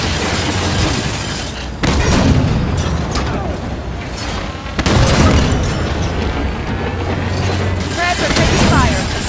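Combat in Halo 5: Guardians near a frontier colony, with heavy booming explosions and weapon fire rolling continuously, loud and dense, punctuated by sharp bursts, with voices talking over the battle.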